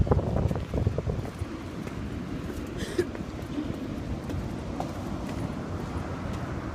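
Wind blows at a beach on a cold day, gusting loudly into the microphone in a steady rushing roar, with a few faint knocks and thumps.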